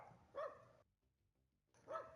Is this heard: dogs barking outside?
yes